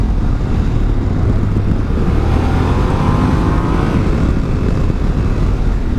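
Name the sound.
Yamaha Ténéré 700 motorcycle riding downhill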